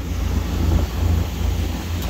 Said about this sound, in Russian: Небольшой ветерочек.